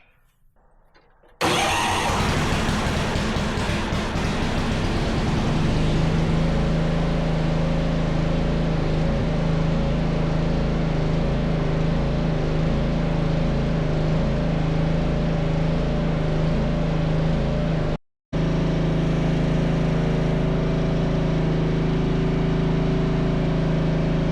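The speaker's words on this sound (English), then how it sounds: "I'm gonna turn this engine on and let it run for 5 minutes because I want to change that oil." An old, beat-up Yard Machines riding mower by MTD with a 13.5 hp Tecumseh engine starts and then runs at a loud, steady idle with a throbbing drone, nearby and continuous, cutting out for a moment before resuming.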